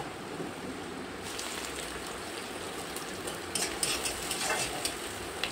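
Onion and green chilli drop into oil where garlic and ginger have already browned. The result is a quiet, even sizzle that grows busier partway through, with light stirring scrapes near the end.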